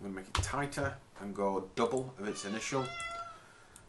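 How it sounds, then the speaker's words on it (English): A house cat meows loudly and repeatedly, close by, while someone talks over it during a gearbox simulation demonstration. "That is my cat."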